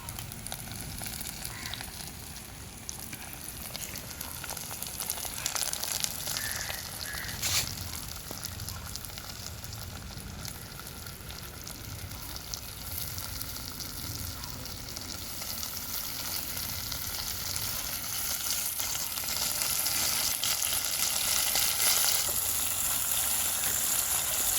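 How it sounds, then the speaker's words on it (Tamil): Cuttlefish for a homemade curry cooks in a pan with a steady, close sizzle and bubbling that runs unbroken and grows slightly louder toward the end. "இப்போ கணவாயை போட்டு அவிய விடுவோமே."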